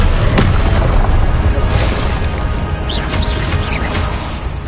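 A loud booming fire spell explosion in Hogwarts Legacy, a deep continuous roar with a sharp crack at the start and brief whooshing tones later, with a voice partly heard underneath.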